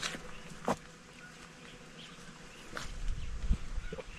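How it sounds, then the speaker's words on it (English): Wild bees buzz faintly around blooming plants on a coffee farm, a soft, intermittent hum among quiet outdoor ambience and a few light knocks, with no voices. "Can you hear the bee?"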